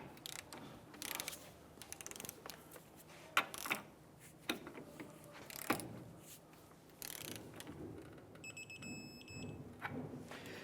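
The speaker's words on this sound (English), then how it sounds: "I'm going to torque our lower ball joint to 80 foot-pounds" Ratcheting clicks and metallic mechanism sounds come from a torque wrench tightening the lower ball joint nut to 80 foot-pounds on a 1999-2004 Jeep Grand Cherokee, in irregular close bursts with tool handling noise between.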